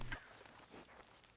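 Hoofbeats of a galloping horse in Red Dead Redemption 2, heard faintly as a quick steady rhythm under a dense background wash.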